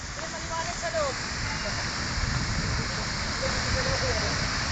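Water splashing and spraying through the air in a continuous rushing hiss, with a few brief chirping tones and people talking faintly underneath.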